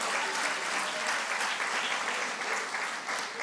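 Congregation in a church applauding loudly, a dense, steady wall of clapping that holds throughout at close range with no talk over it.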